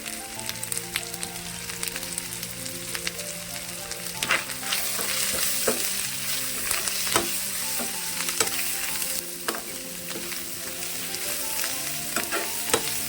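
Ginger-garlic paste, coriander and turmeric fry with onions in a pan for a budama dosakaya and tomato curry, giving a steady close sizzle and crackle with frequent stirring scrapes throughout.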